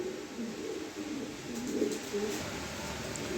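A pair of pigeons gives soft, low repeated coos over quiet background hiss, the calls rising and falling throughout at close range.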